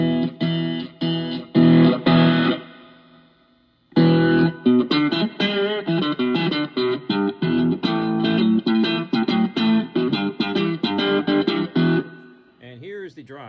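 Open chords strummed on an electric guitar through a Joyo Oxford Sound distortion pedal while its voice knob is turned: loud, gritty rhythmic strumming, a brief fade and pause, then a long run of choppy strums that thins out at the end.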